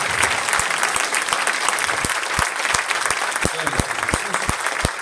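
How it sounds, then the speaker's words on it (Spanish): A church congregation applauds for Jesus in a sustained, dense wash of clapping, with a few louder individual claps standing out near the front and a voice calling out over it. "Den un aplauso a Jesús."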